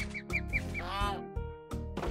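A goose in Minecraft gives a quick run of nasal quacking honks, close and fairly loud, with a voice-like tone that may be an imitation.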